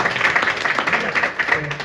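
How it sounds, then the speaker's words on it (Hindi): Loud, dense clapping from an audience at a business club meeting, a continuous rapid patter of many hands close by, with faint talk mixed in. "जोरदार ताली मारो यार।"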